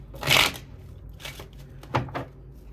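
Tarot cards shuffled in a few short papery bursts, with two flurries close together near the end and quiet pauses between them.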